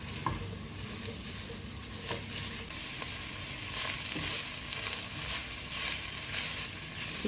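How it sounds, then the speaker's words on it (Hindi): Shredded chicken and onion sizzle steadily in a hot pan, with occasional scrapes and clinks of a stirring spoon and no talking. "चिकन प्याज में शामिल करके इसको हल्का सा सौते कर लेते हैं"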